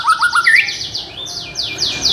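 Caged songbird chirping in quick bright bursts, a run of rapid rising tweets followed by sweeping whistled notes, close and loud with no talk.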